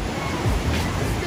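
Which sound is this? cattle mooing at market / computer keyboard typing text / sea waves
sea waves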